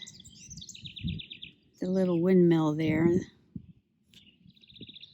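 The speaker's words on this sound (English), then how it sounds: "if you hear a bird singing, that's the little house wren." Repeated high, buzzy bird song bursts at the start and end, with someone talking loudly in the middle and some low rustling underneath.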